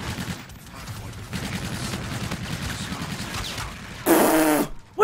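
A first-person shooter video game plays bursts of rapid gunfire under a low rumble, followed near the end by a loud, sharp crash-like blast.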